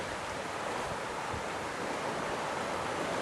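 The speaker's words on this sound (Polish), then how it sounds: "szum rozbryzgujący się fal na rafach koralowych" Continuous roar of surf washing onto coral reefs in the Maldives, a broad steady rush of breaking waves with a breathy wind-like texture throughout.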